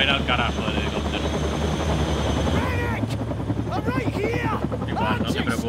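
A helicopter in the horror game Still Wakes the Deep produces a loud, constant rotor drone with a heavy low rumble throughout, while someone talks over it.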